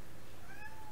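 A house cat gives a single short, rising meow, faint against quiet background hiss.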